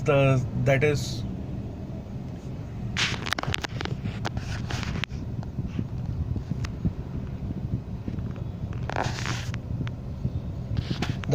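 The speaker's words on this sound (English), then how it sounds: "is something which is inherent in WagonR, the in-cabin noise" Inside a running Maruti WagonR AMT, a steady low engine and road hum fills the cabin at modest level, with faint wind rush and occasional clicks, while someone talks over it.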